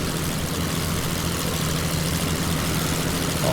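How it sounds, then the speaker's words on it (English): Early-war two-seater biplane engine in the flight game Wings, a steady, droning propeller hum with a low throbbing idle that holds evenly throughout and swells slightly at the end. "Yes, it is an early war aircraft."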